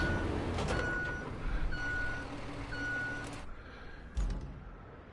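Trucks reversing in the video game Roadcraft give off three evenly spaced electronic backup beeps over a steady engine rumble, with a sharp thump near the end as the noise drops away.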